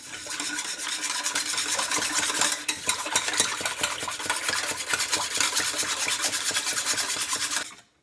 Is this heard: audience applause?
no